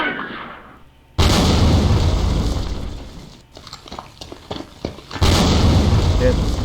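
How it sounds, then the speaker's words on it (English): German mortar fire in a John Tiller Campaign Series wargame set during the Market Garden campaign, loud booming blasts that start abruptly, rumble on, then return in a second heavy burst. "make for that erratic placement of the mortar fire from the Germans."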